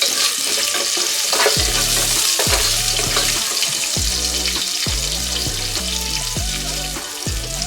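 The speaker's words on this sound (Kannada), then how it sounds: "ಅದೇ ಪ್ಯಾನ್ಗೆ ಒಂದು ಸ್ವಲ್ಪ ಎಣ್ಣೆ ಹಾಕ್ಕೊಂಡು, ಎಣ್ಣೆ ಕಾದ್ಮೇಲೆ ಇದಕ್ಕೆ ಒಂದು ಗಡ್ಡೆ ಅಷ್ಟು ಬೆಳ್ಳುಳ್ಳಿ ಜಜ್ಜಿ ಇಟ್ಕೊಂಡಿರೋದನ್ನ ಹಾಕೋತಾ ಇದ್ದೀನಿ" Crushed garlic sizzles in hot oil in a pan for a bitter gourd dry fry, a loud close crackle with repeated stirring and scraping strokes in a rough rhythm.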